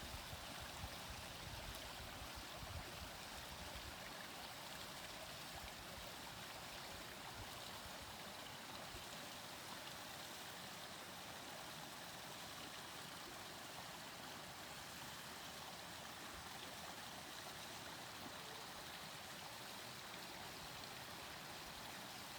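A brook flows steadily near Indian Brook Reservoir in Essex, Vermont, running past stonework set along and in the stream: a constant broadband rush of water, close and even throughout, with no voices.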